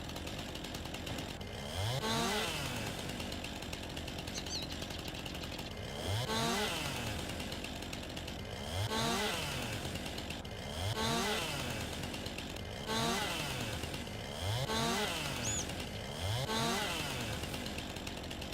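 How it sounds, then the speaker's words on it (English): Chainsaw in Farming Simulator 19 revving in steady repeated cycles, each burst rising then easing off about every two seconds, loud and close with a constant engine drone underneath. "Not safe to step in front of the guy with a chainsaw."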